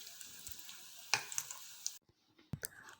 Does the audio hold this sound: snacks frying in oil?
yes